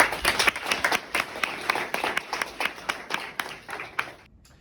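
A small group in a classroom at a cram school claps, with sharp, distinct hand strikes in an uneven rhythm that carries on briefly before stopping abruptly.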